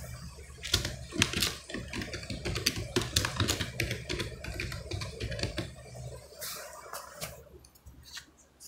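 Typing on a computer keyboard while entering a site name into an online form, a steady run of close, crisp key clicks with brief pauses and a quieter stretch near the end.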